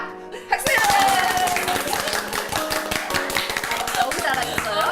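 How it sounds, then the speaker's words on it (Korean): A studio audience starts clapping abruptly after a brief quiet moment, with close, sharp individual claps forming a lively, uneven rhythm, and some voices talking through it. "박수로 한번 확인해 볼까요?"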